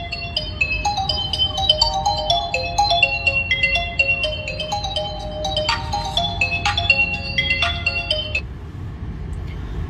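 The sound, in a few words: mobile phone ringtone ringing inside a car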